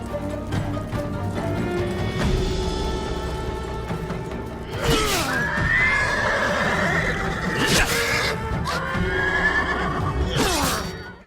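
In the Ghost of Tsushima video game, a horse neighs and whinnies several times over clip-clopping hooves, with whooshing strikes and crashes of combat in between.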